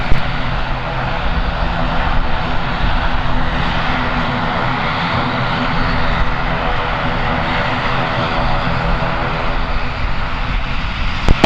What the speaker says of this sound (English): Runway 34, clear for takeoff